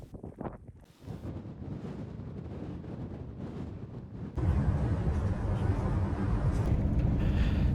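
Wind gusting outdoors on arrival at Port Stoth, a small cove in the Outer Hebrides, a loud roaring rush buffeting the microphone that swells sharply partway through and stays strong to the end.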